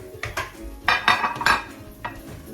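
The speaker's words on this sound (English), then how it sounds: "let me empty the green beans out and put it in a bowl" Green beans are emptied into a bowl, making a brief scatter of clinks and clatters against the dish in a few quick bursts, close by and without talk.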